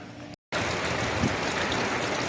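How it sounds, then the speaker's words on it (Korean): Steady, dense rain falls again during a typhoon in August 2023, starting after a brief cutoff and then filling the scene with an even, close hiss of drops and no voices. "소강 상태였던 비가 다시 내리기 시작했습니다."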